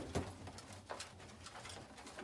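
Pigeons at a feeder during feeding time, soft cooing and fluttering with light scratching and pecking, faint and close, no talking.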